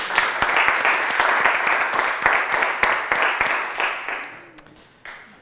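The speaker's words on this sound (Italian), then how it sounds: "Applauso lo stesso." A quiz show studio audience applauding, dense rapid clapping that holds for about four seconds before thinning out to a few scattered claps and trailing off.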